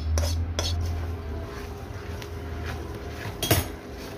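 Roasted semolina being stirred into bubbling sugar syrup in a pan for rava barfi, with a spoon scraping and clinking against the metal in a few sharp knocks over a low steady hum.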